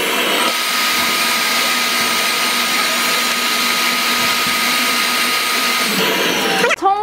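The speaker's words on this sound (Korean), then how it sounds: "청소기로 이렇게 넣고 쭉" A household vacuum cleaner draws air out of a compression packing bag while a suitcase is packed: a loud, constant whooshing roar that runs steadily, then cuts off abruptly with a short rustle at the very end.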